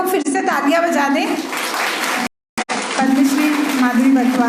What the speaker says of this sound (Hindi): और एक बार जोर से हम लोग फिर से तालियां बजा दें